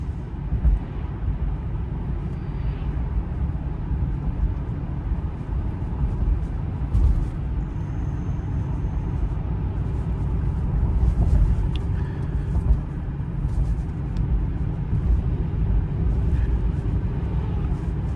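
A 2004 Lincoln Town Car cruises along, its engine and road noise forming a steady low hum from inside the cabin with slight swells, unbroken throughout.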